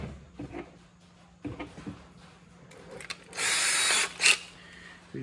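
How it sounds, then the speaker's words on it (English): A short burst of power drilling a hole, a steady high whine lasting about a second, preceded by scattered knocks and handling clatter. "So now I gotta drill a few holes for"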